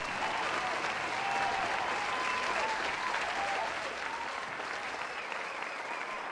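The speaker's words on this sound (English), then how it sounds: "Let's hear it once again for Sharks defender Broderick McCaskill" A crowd claps and cheers in sustained applause at an awards night, dense and steady throughout, with voices faintly mixed in.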